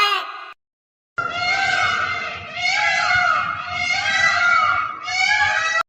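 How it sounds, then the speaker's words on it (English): A peacock calls in a string of loud, wailing, nasal cries, four in close succession after a brief earlier call, each rising and falling in pitch. "P for peacock"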